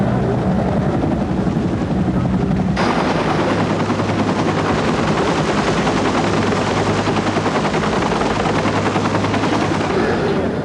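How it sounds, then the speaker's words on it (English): A loud medevac helicopter landing, with a rapid, chopping rotor beat filling the whole stretch, the engine growing rougher partway through. "A medevac chopper from Fort Worth touches down only moments later."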